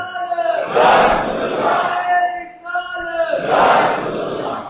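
A large crowd at a religious gathering shouts its response to a slogan in loud, rhythmic waves, voices swelling together in a few repeated calls close to the microphone.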